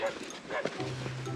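A dog barks a few short, sharp times in a foggy village near Kakani, Nepal, partly under people talking nearby.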